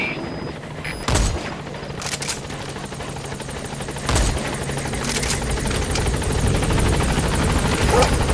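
A helicopter in Metal Gear Solid V approaches a landing zone, its steady rotor drone building toward the end, while scattered gunfire bursts and sharp impacts punctuate the scene and a voice speaks briefly.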